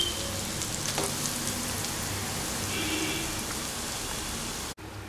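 Grated carrot dropped into hot ghee in a pan while making carrot halwa, giving a steady, close, crackling sizzle that runs evenly for about five seconds before cutting off abruptly near the end.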